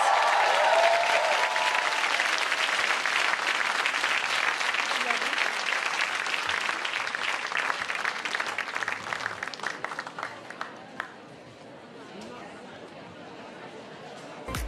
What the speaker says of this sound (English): a wonderful, loud round of applause for all our wonderful speakers